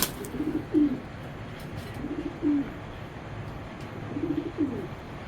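A racing pigeon coos in soft, repeated bursts, several low throaty calls close by against a quiet background, with no talking.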